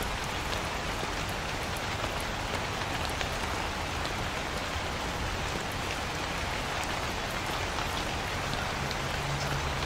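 Steady rain fills the night scene of the video game Night Security, a constant, dense hiss of drops hitting surfaces with no pauses and no voices.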